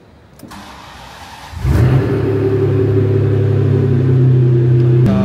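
A Ferrari Maranello engine cranks and fires up at about 1.5 seconds, then settles into a loud, steady, deep idle rumble heard close up, with no talking.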